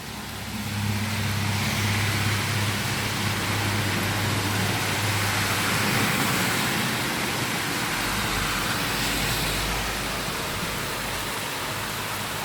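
Rain falls steadily during a drive toward Tbilisi, Georgia, a constant broad hiss over a low road rumble from the moving vehicle, continuous and fairly loud throughout.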